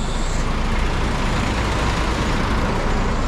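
A Kesatria bus at the TBS bus terminal gives a steady, loud low engine rumble close by, with ongoing traffic noise and no voices.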